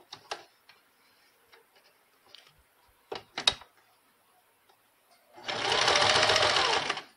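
A sewing machine stitching a baby shoe runs in a steady, close whirring burst of about two seconds near the end, after a few scattered soft clicks and taps as the fabric is handled.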